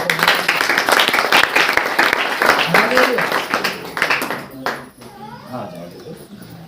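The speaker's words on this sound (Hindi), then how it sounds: "ताली बजाकर" A church congregation claps through a service, steady applause mixed with loud talk and shouting voices, fading somewhat toward the end.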